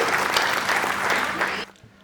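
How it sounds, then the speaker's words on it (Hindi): Audience applause at a Hindi poetry recital, a dense, steady wash of clapping from a crowd that holds for about one and a half seconds and then drops off abruptly to quiet. "एक बार तालियां बजाइए"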